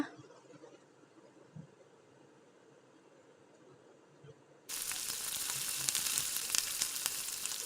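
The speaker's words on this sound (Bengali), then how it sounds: "রসুনটা ভালো করে লাল লাল হয়ে ভাজা হয়ে গেলে দিয়ে দিলাম পেঁয়াজ বাটা" A quiet stretch gives way to a loud, steady sizzle of garlic paste frying in hot oil, continuing close and strong to the end.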